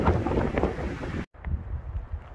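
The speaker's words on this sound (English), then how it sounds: "Got lots of wind." Wind buffets the microphone along an Arizona Trail hiking route, a steady loud rushing roar that cuts out for a split second, then returns slightly weaker and gusting unevenly.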